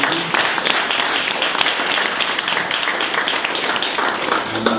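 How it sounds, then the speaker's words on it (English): An audience applauds speaker Scott Thornton at the close of a talk on understanding customers' emotional context, a dense, steady roar of many hands clapping that continues evenly and fairly loud throughout. "let's give Scott Thornton one more round of applause."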